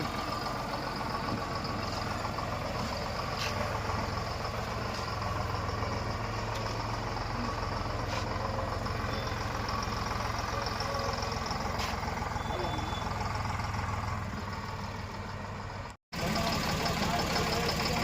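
A tractor engine idles steadily nearby, a continuous low rumbling chug that barely changes, with a brief cut near the end before it resumes.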